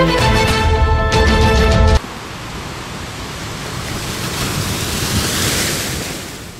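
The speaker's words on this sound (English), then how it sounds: "Sea's beautifully calm today." Calm sea gently washing onto a beach, a soft continuous surf wash that swells and eases slowly, following a short burst of a louder tonal sound at the start.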